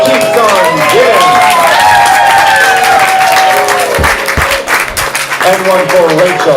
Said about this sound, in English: give one final round of applause to Robbie, the gift that keeps on giving.